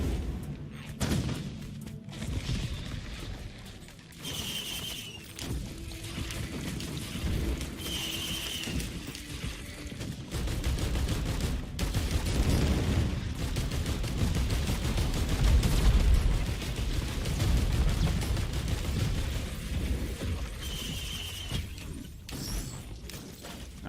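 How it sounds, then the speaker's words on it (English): Rockets fire in bursts in Risk of Rain 2, clattering volleys and rumbling blasts that swell to a dense barrage midway before easing, with short chiming pickup tones over the din. "Every time I interact with something, it shoots off rockets"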